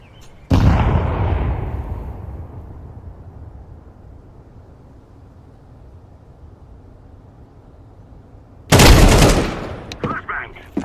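A grenade goes off in Counter-Strike 2 with a loud, sharp blast that fades into a long rumbling tail. A second powerful bang follows near the end, then a few smaller pops.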